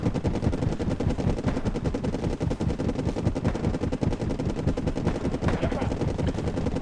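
Intense firefight in the video game Wargame Airland Battle, with rapid continuous machine-gun bursts and gunfire rattling steadily and loudly throughout, under occasional talk.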